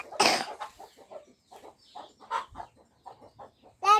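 Chickens clucking near chicks on a rural hillside farm, a series of short clucks and soft calls in uneven bursts, with a louder squawk at the start and end, close by and without talk.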